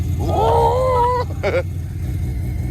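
A car engine with a small turbo revs up with a rising whine, then a second short rev follows, over a steady low engine rumble.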